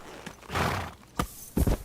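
A horse in the medieval video game Kingdom Come: Deliverance snorts and whinnies in short, loud bursts, with a few close hoof thuds in between and no talk.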